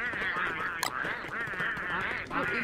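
Birds in the video game Don't Starve squawk and honk in a loud, wavering, goose-like run of calls, nearly continuous with a brief sharp break.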